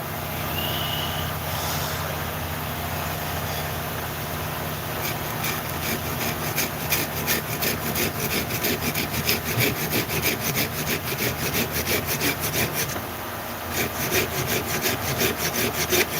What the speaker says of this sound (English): I'm about to cut this piece of wood that I just got. So I just put it in the vise.